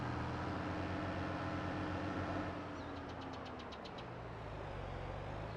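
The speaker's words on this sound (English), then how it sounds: "I'm going to use the versatile. Use a bit of grunt." Steady low rumble of a Versatile tractor engine idling in Farming Simulator 22, loud and close throughout, with a short series of high clicking ticks partway through.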